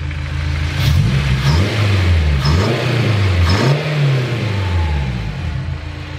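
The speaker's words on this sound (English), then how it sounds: "Kind of hear the turbo a little bit." A turbocharged Honda S2000 engine revs up and down repeatedly, the pitch rising and falling in several surges, with a faint whistling turbo whine above the rumble.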